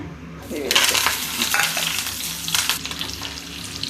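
Onion, green chillies and curry leaves fry in hot oil with a steady, loud sizzle, broken by stirring scrapes and a few clinks of utensils against the pan.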